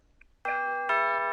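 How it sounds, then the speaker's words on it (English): Doorbell ringing twice in quick succession, a clear two-tone electronic chime with ringing sustained notes, loud and close, alone after a brief quiet start. "I think I better go and find the doorbell there and see if my guest is ready to come on"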